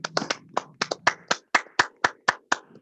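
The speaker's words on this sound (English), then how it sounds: "let's take a moment and clap for them." About a dozen sharp hand claps ring out in a quiet room, fairly close and in a slightly uneven rhythm. The clapping comes from a small group or a single person during an online doctors' panel.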